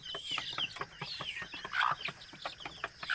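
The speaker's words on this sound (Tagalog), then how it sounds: "Ito nga pala yung mga sisiw ko" Week-old native chicks peep in a busy cluster of high, thin chirps, overlapping and continuous, near and fairly loud with a faint low rumble underneath and no talking.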